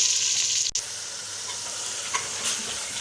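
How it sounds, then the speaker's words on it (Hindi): Two kilos of chicken frying in a pot for biryani send up a loud, continuous sizzle and hiss, broken by one sharp click early on and a few faint stirring taps. "चिकन को थोड़ी देर के लिए फ्राई करेंगे।"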